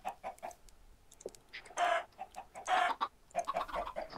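Chickens in the video game Minecraft cluck several times in short bursts, with a couple of louder squawks, close and clear with no speech over them.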